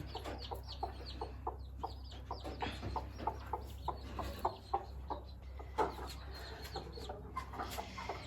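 A six-month-old hen clucks steadily among her newly hatched chicks, repeated soft clucks and high peeping close by, with louder chirps near the end and low background hum.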